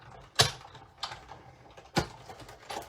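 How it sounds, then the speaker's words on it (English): A die-cutting machine is cranked through two layers of cardstock, giving a few separate mechanical clicks and creaks spaced about a second apart in a quiet room. "I'm going to run this through a couple times only because I have 2 layers of cardstock."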